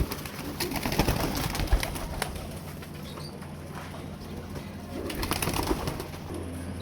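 Sadhna breed pigeons coo and flap their wings close by, with bursts of fluttering over a constant background of cooing.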